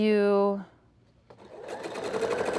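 A sewing machine stitching a pocket seam on a slant pocket, starting after a short sung tone and rising into a fast, close mechanical whir of rapid needle strokes while a person talks over it.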